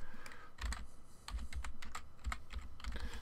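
Rapid computer keyboard typing during a modded Minecraft game, with irregular clusters of sharp, close key clicks and brief pauses between bursts, no talking.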